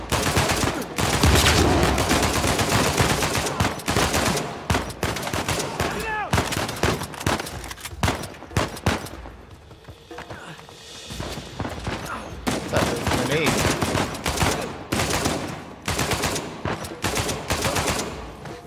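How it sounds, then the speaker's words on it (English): AK-47 gunfire in Uncharted 4 rattles through dense, loud bursts, with a short lull in the middle before the shooting resumes and carries on to the end. "AK-47, let's go"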